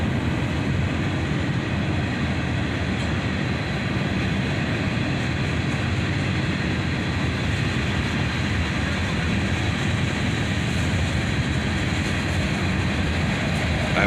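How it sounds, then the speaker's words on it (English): A CSX freight train with a third locomotive running as distributed power rolls past, a loud, unbroken rumble of wheels and cars holding steady from start to end with no voices. "This train also has a third locomotive running as distributed power."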